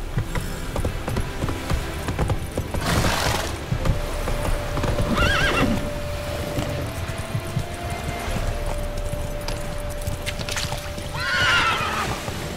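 A horse in The Witcher 3 video game gallops with steady rapid hoofbeats, loud and continuous, while several whinnies break through over the running.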